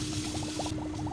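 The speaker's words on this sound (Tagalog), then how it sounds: "Then maglagay tayo ng shallot onion." Shallot onions frying in a pan for pancit, a steady close sizzle with quick bubbling pops lasting about a second.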